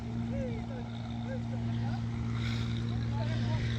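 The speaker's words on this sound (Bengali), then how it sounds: "এই তো বালুবাহী ট্রলারগুলো যাচ্ছে" Sand-carrying trawler boats pass on a river, their engines a steady low drone that holds throughout, with wind noise and faint scattered sounds over it.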